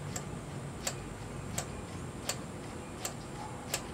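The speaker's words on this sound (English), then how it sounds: "That little tink tink sound is the carburetor closing fully" Small metallic ticks from a 4-stroke 7G motorized bicycle carburetor closing fully repeat at a steady rhythm, about six sharp clicks over a low mechanical hum, close and fairly faint.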